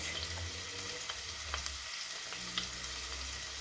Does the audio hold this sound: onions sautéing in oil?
yes